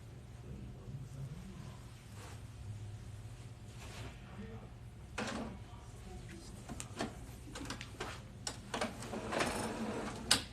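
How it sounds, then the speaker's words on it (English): An Epson EcoTank 15000 printer prints a sublimation design for a tote bag, a steady mechanical hum with scattered clicks and whirring bursts that grow busier toward the end. "Okay, so now it's going to be printing."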